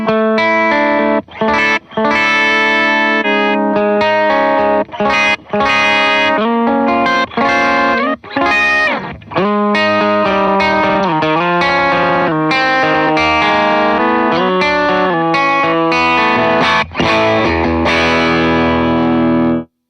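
An electric guitar runs through a Meris Enzo X effects pedal, sustained chords with distorted, chorus-like shimmer and subtle wobbling artifacts, played loud and continuous with brief pauses between phrases and no talking.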